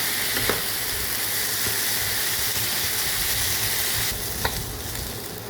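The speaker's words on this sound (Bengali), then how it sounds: "এই যে আমার চালটা ভাজা ভাজা হয়ে গেছে" Rice sizzling and being stirred in a hot pan for a fish pulao, a loud continuous frying hiss with a few sharp scrapes and clicks, no talking.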